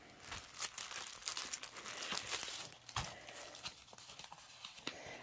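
A plastic snap-button envelope from VIP Cross Stitch holding a cross-stitch kit is opened up close, with crinkling and rustling of plastic and a few sharp snaps and clicks scattered through the handling.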